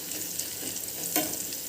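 Mustard seeds popping and spluttering in hot oil for a Kerala-style dried fish curry with mango, a continuous crackling sizzle with a sharper burst of pops near the end, close and fairly loud.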